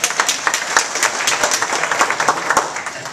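A crowd at a gathering applauds, giving a steady, fairly close burst of dense hand clapping for about three seconds without talk.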